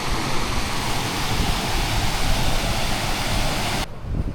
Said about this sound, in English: there is a bit of water going over